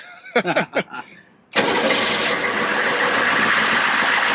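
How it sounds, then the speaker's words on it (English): A Humvee diesel engine cranks and catches, then settles into a steady loud rumbling idle that continues to the end, after a few seconds of talking. "That sounds more like a traditional diesel."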